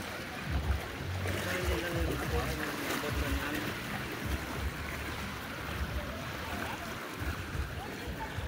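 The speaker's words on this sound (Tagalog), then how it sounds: "Wow, mga motor oh." Motorboats passing on open water, a steady broad rumble of engines mixed with wind and waves, heard continuously at moderate level while voices chatter faintly underneath.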